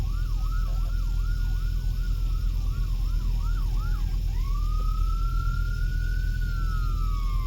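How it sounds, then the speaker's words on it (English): Ambulance siren on a Las Vegas street, a rapid yelping wail cycling several times before switching to a long rising and falling tone, clear over steady low traffic rumble. "It's an ambulance right there."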